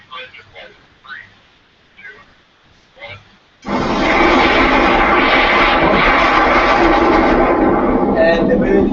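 An aircraft takes off from a normal runway. A few seconds of talk come first, then a sudden, loud, sustained engine roar that holds steady to the end.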